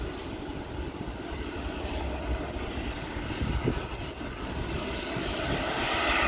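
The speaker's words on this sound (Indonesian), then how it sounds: "Pesawat Wings Air yang siap-siap untuk take off." A Wings Air airplane prepares for takeoff at Sultan Hasanuddin International Airport in Makassar, its engines a steady, distant rumble that swells slightly toward the end, with no talk over it.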